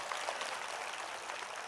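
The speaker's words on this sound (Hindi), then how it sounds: "जोरदार तालियां।" Steady applause from a church pilgrimage gathering, a dense even patter of clapping hands held at a constant level throughout, without voices.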